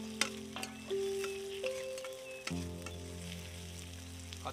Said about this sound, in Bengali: পেঁয়াজটা ভালো করে নেড়ে চেড়ে নিতে হবে